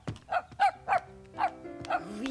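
A small cartoon dog barks about five times in short, evenly spaced yips, close and clear, with a faint tonal background beneath.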